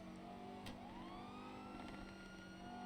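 A police car siren wails in a GTA roleplay game, a rising and falling electronic tone under a steady engine drone, moderately distant and continuous, with no talking.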